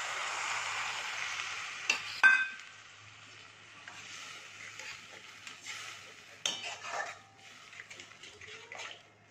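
Warm water is poured into a pan of onions frying for katla fish kaliya, giving a faint hissing sizzle that fades, with soft stirring clinks and short sharper bursts throughout.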